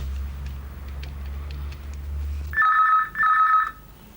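A telephone rings twice in two bursts of bright trilling tones as a call is placed, following a low rumbling hum that cuts out just before the rings.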